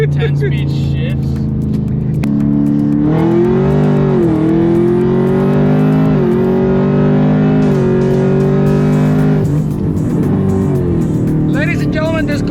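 A Ford Coyote V8 car with a stock 10-speed automatic accelerates hard, its loud engine note climbing through several quick upshifts, with a person talking over the roar.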